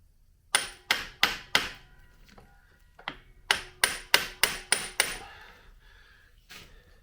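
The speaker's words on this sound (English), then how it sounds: "I'm going to use an impact just to make sure they all come loose without stripping." An impact wrench loosens the clutch cover screws on a seized Honda XR70 engine in sharp, close bursts: four quick rattling hits, a pause with a faint tap, then a run of six more before quiet.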